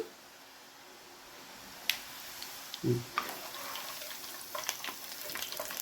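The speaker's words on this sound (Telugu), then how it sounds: "మంచి గోల్డెన్ కలర్ వచ్చే వరకు కొంచెం వేయించుకోవాలండి ఇది" Janthikalu, a crisp rice flour snack, frying in hot oil with a steady low sizzle and scattered small pops and crackles, plus one louder thump partway through.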